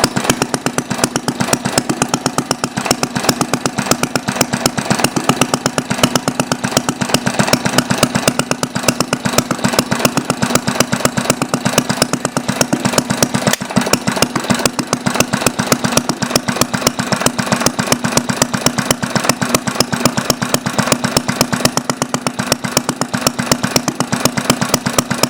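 A Briggs small engine fitted with a glass cylinder head and a temporary flywheel runs loud and steady at close range, a continuous rapid firing chug with no pauses.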